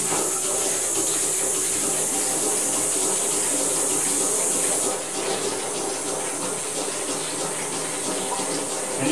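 Vegetable oil being pumped into a biodiesel processor, a loud continuous rushing hiss with bubbling that eases slightly partway through.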